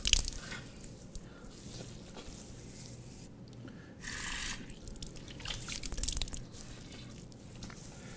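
Water splashed onto the face by hand during Islamic ritual ablution (wudu), a wet pattering and dripping that rises in short bursts over steady close running-water noise, with no talking.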